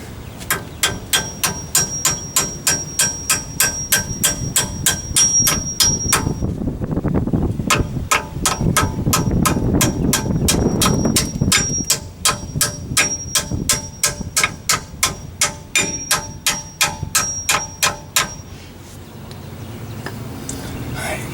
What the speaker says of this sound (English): grab a hammer, finish it off.